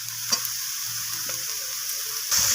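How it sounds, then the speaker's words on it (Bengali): Vegetarian jackfruit curry with spices and green chillies sizzles steadily in a pan while it is stirred and scraped, a continuous close frying hiss with occasional sharper stirring sounds. "তো সমস্ত কিছু আবারও এইভাবে কষিয়ে নিচ্ছি, আর দিয়ে দিলাম কয়েকটা কাঁচা লঙ্কা।"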